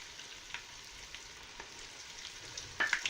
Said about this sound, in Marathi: तर हे ना आपल्याला छान लसूण अद्रकची पेस्ट तळून घ्यायची